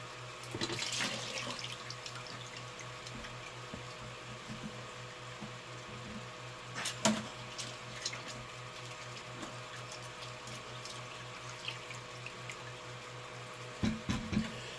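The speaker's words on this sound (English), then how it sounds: "I do love how quick and easy it is to wash that mat out." Running water from a basement tap washes out a gold panning mat, a steady hiss and splash over a low hum, with a few louder splashes and knocks, no talking.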